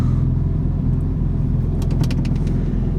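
A Mitsubishi Evo 9 with a full titanium exhaust and high-flow cat, idling as heard from inside the shut cabin: a steady, muffled low rumble with faint light clinks over it.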